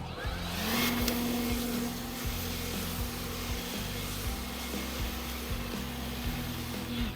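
A Ridgid leaf blower runs on its high, non-turbo setting, a steady close motor whine with a strong airy rush that holds with slight wavering throughout, no voices.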